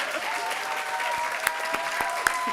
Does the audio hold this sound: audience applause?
yes